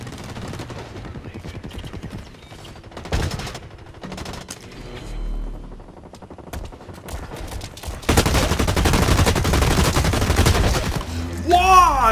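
Light machine gun fire in the Blacklight shooter game rattles in bursts of rapid shots, building to a long, loud, sustained volley near the end, mixed with other game effects.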